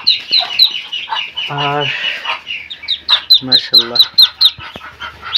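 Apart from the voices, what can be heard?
white Chinese ducks in a farm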